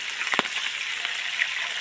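A faint, steady sizzle of pork belly frying in a pan made from a harrow disc, a soft hiss with a couple of small pops, no talking.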